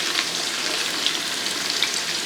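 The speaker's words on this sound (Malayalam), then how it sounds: "മസാലയൊക്കെ മൂത്തതിന് ശേഷം ഇതേപോലെ നേരത്തെ അരച്ച് വെച്ചിരിക്കുന്ന ആ സവാള അങ്ങോട്ട് ഇട്ട് കൊടുക്കുക." Ground onion paste frying in spice masala for chicken biryani, a dense, steady close sizzle with faint bubbling and no talk.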